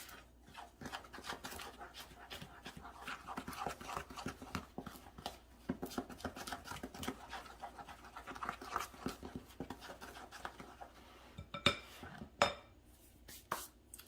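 Dry muffin ingredients, flour and salt among them, are stirred in a bowl, with a steady series of soft scraping clinks from utensil against the dish and a dog panting nearby.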